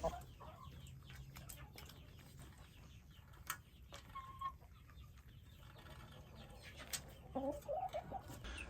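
Chickens cluck softly in a coop holding Delaware chicks and mature laying hens, with scattered clucks, a few louder calls near the end and a steady low background hum.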